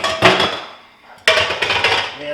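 Metal pots and pans clank and clatter loudly up close as one pan is dragged out from the back of a crowded kitchen cabinet, in two harsh bursts separated by a brief lull.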